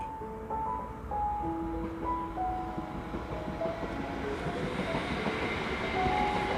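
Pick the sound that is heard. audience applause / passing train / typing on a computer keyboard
passing train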